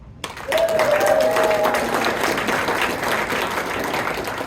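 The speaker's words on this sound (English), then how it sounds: "I want you to give me a round of applause if you have children." Comedy show audience of parents breaking into applause and cheering, rising quickly and staying full and steady, with a brief whistle-like tone near the start.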